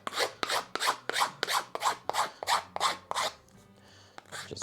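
A file is drawn across the edge of a wooden backplate to cut a small chamfer, a series of about ten crisp, regular rasping strokes up close, followed by a short pause and one more stroke.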